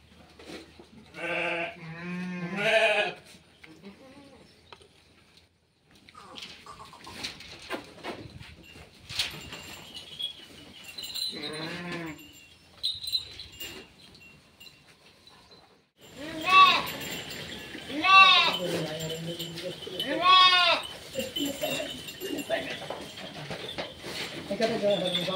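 Sheep in a flock on a farm in Telangana, India, bleating in repeated wavering cries, some close and loud, in bursts between quieter stretches, while someone talks nearby.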